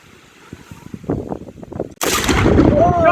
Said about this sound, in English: This is our musket firing demonstration.